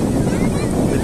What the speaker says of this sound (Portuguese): vou mostrar pra vocês aí como é que tá até o vento forte aí